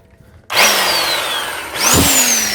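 Rotary hammer drill on rotary setting with a rod attached, during tie rod and CV axle removal on a 2004 Lexus LX470. A loud motor whine starts abruptly and falls slightly in pitch, then the drill is squeezed again and revs back up.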